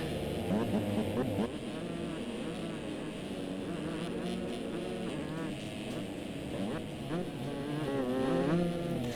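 Two-stroke dirt bike engines race in the MX Simulator game at a supercross round in Oakland, giving a continuous buzzing, rising and falling whine of two bikes battling closely, steady and fairly loud throughout.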